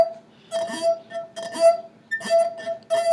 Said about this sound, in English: Now you can make the glass sing.